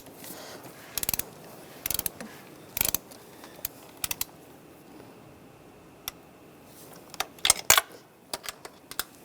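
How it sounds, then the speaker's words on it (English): A torque wrench tightens bolts to 8 foot-pounds, working diagonally from the center outward, giving sharp isolated ratcheting clicks in small bursts with quiet gaps between them. "working from the center outward, we're going to torque these to 8 foot-pounds"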